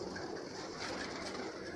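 Pigeons, including large breeding pairs kept by a fancier, cooing softly at a distance beneath a steady background hum, with no voices.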